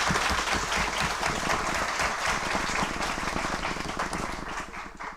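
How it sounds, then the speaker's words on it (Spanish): An audience at a comics conference lecture bursts into sustained, dense applause with many hands clapping together, loud and continuous, fading slightly toward the end. "palmas para a Simônia"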